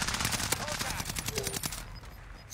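Rapid gunfire in a video game, a dense burst of repeated shots at a steady quick rhythm lasting about two seconds, fairly quiet, then cutting out.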